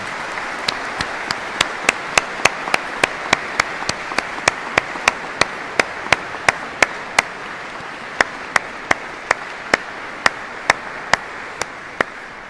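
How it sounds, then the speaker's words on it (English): Applause at a university graduation ceremony, heard as a long run of distinct, evenly spaced single claps ringing out clearly over a quiet, hissy hall. "Perhaps you could give them all a huge round of applause to thank them for what they've done and will continue to do."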